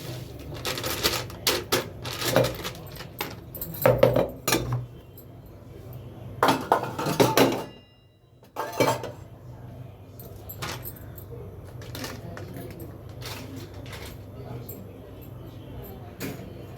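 Dishes, pots and utensils being put away in a home kitchen, with bursts of close clinking and clattering spread across the clip, one brief silent gap, and someone talking throughout.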